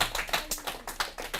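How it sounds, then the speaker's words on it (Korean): A small audience at a first-aid and emergency-response class claps in short rhythmic bursts, about eight distinct claps in quick succession, close and clear without talk. "박수 한번 쳐주세요"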